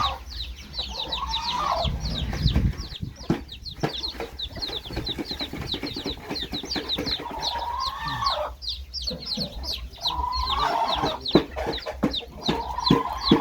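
Chickens cluck repeatedly at a farm nest site, with rising hen calls and busy overlapping clucks close to the microphone, plus a brief low rumble of handling noise early on.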